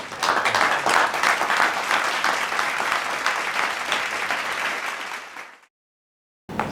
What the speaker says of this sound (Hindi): आपकी ज़बरदस्त तालियों के दरमियान मैं आवाज़ देता हूँ